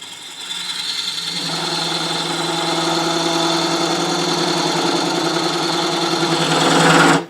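A wood lathe spins steadily as a thread-chasing tool cuts 16 threads per inch into a turned bowl, a continuous close motor hum with a faint cutting rasp that builds slightly before stopping.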